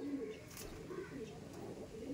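Chennai Madrasi pigeons, a male among them, coo softly in low repeated rolling phrases across the whole stretch, with faint background noise and no talking.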